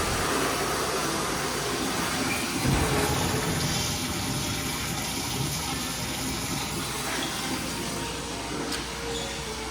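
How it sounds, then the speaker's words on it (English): Toilet water running continuously in a bathroom: a steady, loud rushing hiss of flowing water that holds unchanged throughout, heard close up with no talking. "I'm pretty sure the toilet just continued to flow"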